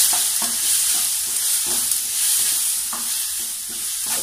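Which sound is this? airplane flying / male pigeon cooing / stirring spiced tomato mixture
stirring spiced tomato mixture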